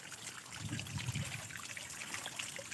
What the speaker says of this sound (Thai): เห็นน้ำเราเห็นน้ำใสไหลเย็นเลย